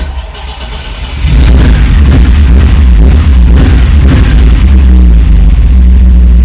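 A Ferrari Dino 246 GTS engine cranks on a new battery and fires up, then settles into a loud, steady rumble with some revving throughout.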